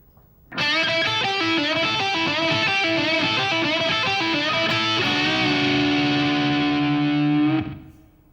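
Distorted electric guitar solo phrase in a hard-rock style, a fast five-note pattern repeated several times with string bends, then a long held bent note ringing out, loud and alone.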